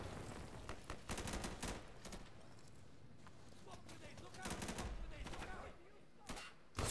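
Gunfire in the video game Insurgency: clusters of rapid automatic shots in bursts across the stretch, sharp and fairly loud, with players talking over the shooting.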